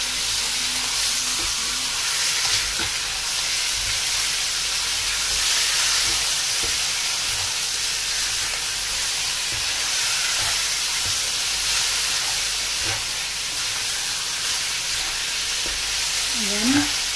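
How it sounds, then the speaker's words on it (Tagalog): Chicken for a Filipino pineapple and coconut milk dish fries in a pan, with a loud, constant, close hiss of sizzling oil lasting the whole stretch. "Iprito lang natin ang hot bahagya ang ating chicken."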